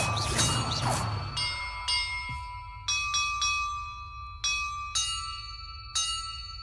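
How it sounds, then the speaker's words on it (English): Bells ring in Hogwarts Legacy, struck one after another in an uneven sequence of about eight clear metallic tones, each ringing out and decaying over a low ambient hum. "Perhaps the map contains clues about the order I'm supposed to ring the bells in."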